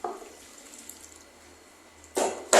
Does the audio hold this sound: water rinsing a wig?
yes